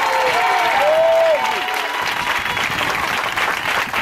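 A church congregation at a Sunday service breaks into loud, sustained applause that fills the room, with a brief raised voice at the start before the clapping carries on alone.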